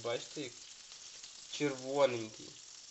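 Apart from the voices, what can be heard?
small fish (crucian carp, perch) frying in a pan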